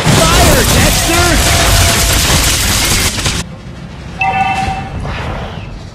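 Dexter, the monkey companion of Claude in Mobile Legends, fires in a dense, loud burst of rapid shots that lasts about three seconds. It then cuts off abruptly, leaving quieter game effects and a short chime.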